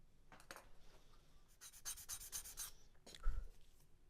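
Saw or knife cutting an angle in a wooden part for a Carl Goldberg second-generation Sukhoi SU26MX model plane: a few quiet, rapid rasping strokes in a short cluster, then a single soft knock, close by with no talk.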